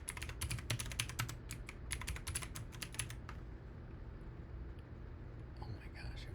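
Quick bursts of clicking keystrokes on a computer keyboard rattle for about three seconds and then stop, with soft low-level talk underneath.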